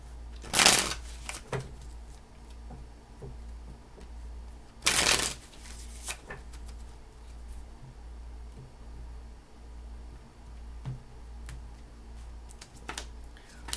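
A tarot deck being shuffled by hand, two distinct riffling bursts near the start and midway, with quieter card taps and handling noises between over a steady low background hum.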